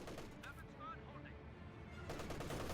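An MG34 machine gun fires in the Company of Heroes 2 strategy game, with faint, distant rattling bursts at the start and again near the end while a commentator's voice talks over them.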